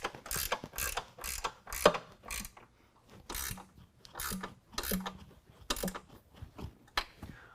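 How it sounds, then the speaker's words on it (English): A 13mm ratchet tightens nylock nuts on a running board bracket against the rocker panel of a 2021 Ford F-150 SuperCrew, giving repeated close clicking bursts in an uneven rhythm with short pauses between strokes. "Take a 13mm and go ahead and tighten all that down."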